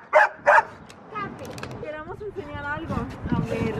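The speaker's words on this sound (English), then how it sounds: "Sorry for that annoying dog." A small dog gives two sharp, loud barks at the start of an indoor home scene, then people talk for the rest of the clip.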